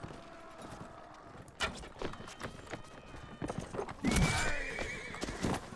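Horses in the video game Mount & Blade Warband, hooves clip-clopping in scattered bursts and a loud whinny near the end, with faint game ambience behind.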